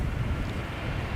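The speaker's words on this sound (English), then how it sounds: "number 190 KLM arrival from Boshell" A KLM airliner arrives at Amsterdam Schiphol, its engines giving a steady low roar mixed with wind buffeting on the microphone, continuous and moderately close with no talk.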